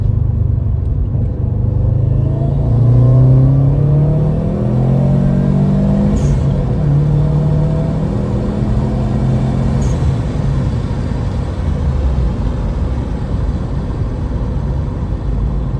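A Subaru WRX engine revs hard in second gear, a loud, deep rumbling drone that climbs steadily in pitch as it winds out over a long pull and then settles, with no voices.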